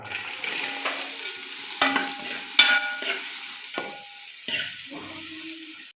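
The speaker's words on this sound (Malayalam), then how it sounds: "നമ്മുടെ വെളിച്ചെണ്ണ ചൂടായിട്ടുണ്ടേ ഇതിലേക്ക് നമ്മുടെ അരിഞ്ഞ് വെച്ച പച്ചക്കറി ഐറ്റംസ് എല്ലാം ഇട്ട് കൊടുക്കുക" Chopped vegetables hit hot coconut oil and fry with a soft, even sizzle, punctuated by several sharp stirring knocks and scrapes from a spoon in the pan, no talking.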